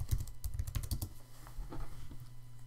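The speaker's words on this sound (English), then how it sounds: "I can type into that post-it note." A quick burst of close, crisp keystrokes rattles on a computer keyboard as text goes into a digital sticky note, with short pauses between clusters of clicks.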